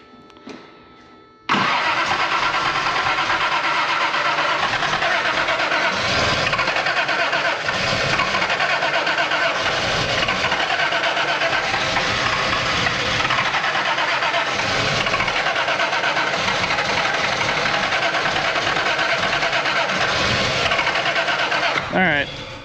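A Toyota 4Runner engine runs after its distributor has been moved, starting with a sudden surge and then holding a loud, steady, slightly rough running roar up close for about twenty seconds.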